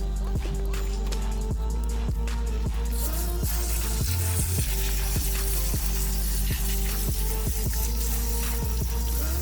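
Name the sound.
water rinsing aglaonema plant roots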